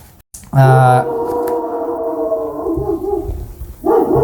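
A person imitating a dog lets out a single drawn-out, howling bark-like cry up close and loud, trailing off over a few seconds before a second call begins.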